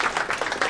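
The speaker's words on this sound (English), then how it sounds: "Let's give them a round of applause." An audience at a city council meeting claps in a quick burst of scattered hand claps, brief and moderately close, with no voices over it.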